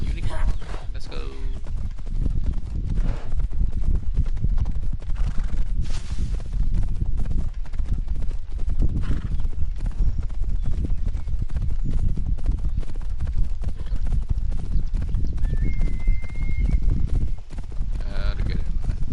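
A horse gallops in Assassin's Creed Odyssey, its hooves beating a steady, continuous clip-clop throughout, with a voice heard now and then over the game sounds.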